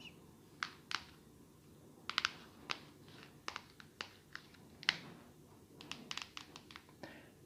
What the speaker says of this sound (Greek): Ναι, είναι χαρτιά. Χαρτιά που παίζουμε.